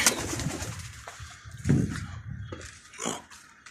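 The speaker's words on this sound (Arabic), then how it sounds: "ادي الحمام كله فتحته تمام بالجديد" Pigeons coo softly in a loft that has just been opened, with scattered rustling and faint bird calls.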